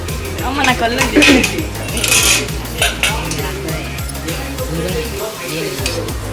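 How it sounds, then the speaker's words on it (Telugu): Rice and curries of ridge gourd with chana dal and taro tamarind stew are served at home, with repeated spoon scrapes and clinks against dishes in a steady rhythm close by. "నేను ఫుడ్ పెట్టుకుంటున్నా. అన్నం పెట్టుకుంటున్నా."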